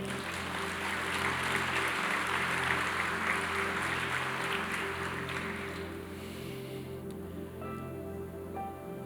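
A church congregation applauds during a Spanish-language sermon, a soft, distant wash of clapping over a steady musical hum that fades out midway, leaving sustained keyboard tones.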